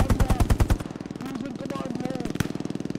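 Rapid bursts of machine gun fire in the Hell Let Loose World War II shooter, loud close rattling at the start, then a steadier distant rhythmic chatter that continues under the battle with one sharp shot near the end.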